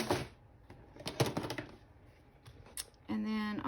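Paper ephemera is cut out for a file folder with scissors, giving a few short snipping and rustling sounds up close, then a brief steadier mechanical buzz near the end.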